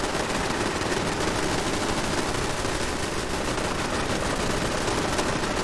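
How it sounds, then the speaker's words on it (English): Dense, continuous automatic gunfire from built turrets battling Brotherhood of Steel forces in Fallout 4, a loud unbroken rattle of rapid shots layered into a sustained barrage with no pauses and no voices. "Being able to build all these turrets and fight the Brotherhood"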